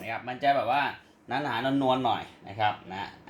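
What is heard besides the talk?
No everyday noises stand out.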